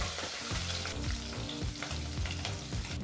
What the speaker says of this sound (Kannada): ಈಗ ಲೋ ಟು ಮೀಡಿಯಂ ಫ್ಲೇಮ್ನಲ್ಲೇ ಎರಡರಿಂದ ಮೂರು ನಿಮಿಷ ಈ ಪದಾರ್ಥನೆಲ್ಲ ಫ್ರೈ ಮಾಡ್ಕೋಬೇಕಾಗತ್ತೆ